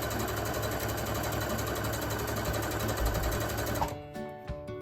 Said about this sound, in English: And then we're just going to stitch.